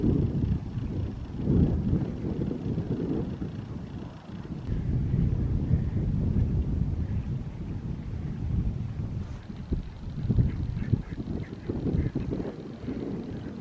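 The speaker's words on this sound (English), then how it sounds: "it is very windy out" Strong wind gusts buffet a tent campsite, a steady loud roar of wind noise with rushing surges and no voices.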